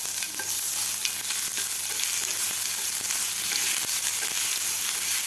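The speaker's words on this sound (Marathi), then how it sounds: "अद्रक लसूणची पेस्ट व्यवस्थित आपल्याला हलवून घ्यायची आहे" Ginger-garlic paste sizzles and fries in a pan with mustard seeds and cumin while being stirred, giving a continuous close crackle broken by light scraping strokes, with no voices.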